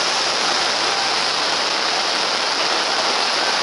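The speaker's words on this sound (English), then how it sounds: "The rain has started as a downpour" A heavy downpour of rain starts and falls in a dense, steady hiss that stays loud and constant throughout, with no pauses or other sounds.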